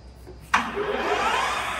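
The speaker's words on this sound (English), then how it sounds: "Working of spindle at its maximum speed, that is 2000 rpm" A Microweily TY-1860 lathe spindle runs at its top speed of 2000 rpm, starting with an abrupt onset and settling into a steady, close broadband whir with no talking.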